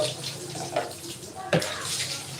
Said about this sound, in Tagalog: buhasan natin siya ng tubig